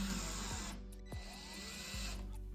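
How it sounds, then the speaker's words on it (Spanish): A power driver whirs in short bursts as it runs in the front plate screws of a bathroom door lock, with brief pauses between passes. It sounds faint and close, with no talking over it. "Instalamos los tornillos de la placa frontal."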